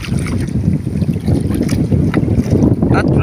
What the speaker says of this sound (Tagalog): Lakas pa ng hangin ngayon, no?